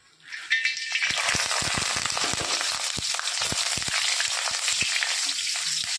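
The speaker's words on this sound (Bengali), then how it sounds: "প্রথমে স্টার্ট করব, প্রথম প্রসেস বড়ি ভেজে নিয়ে" Lentil dumplings (bori) fry in hot oil in a pan with a loud, steady sizzle that starts abruptly and holds throughout, scattered with sharp crackles and pops, no voices.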